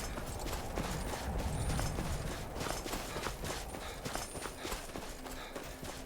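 Horse hooves clip-clop in Skyrim, a steady walking rhythm of soft repeated thuds over an ambient outdoor game background.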